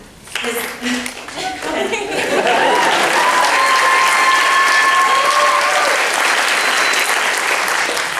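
Graduation ceremony audience at Palmer West breaking into loud applause and cheering for a graduating campus guide, starting after a moment of speech and building into sustained clapping with whoops and shouts riding on top.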